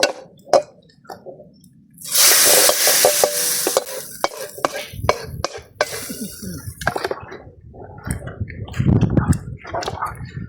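Lentil dal for a Sri Lankan feast poured into a pan of hot tempering: a loud sizzling rush lasting several seconds, then scraping and stirring with clinks, with quieter bubbling and a few short moments of talk.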